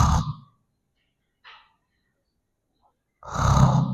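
A voice imitates the rattling, snore-like death rattle of a dying person, with a short burst of rasping, snoring noise at the start and a longer, louder throaty roar at the end, separated by near silence.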